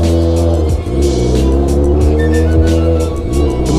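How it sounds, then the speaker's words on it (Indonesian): A car engine with an overly loud aftermarket exhaust rumbles at close range, its throaty exhaust droning and rising slightly as it revs. "ini knalpotnya soalnya terlalu berisik banget"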